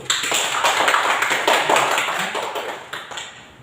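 A school class claps hands together during a lesson, a short, close burst of sharp overlapping claps with a few distinct beats, tapering off toward the end.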